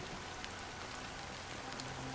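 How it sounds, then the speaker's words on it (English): Steady rainfall in the video game Honkai: Star Rail forms a soft, even hiss of drops pattering on surfaces, continuous and moderately quiet, with no voices. "Why did this rain choose me?"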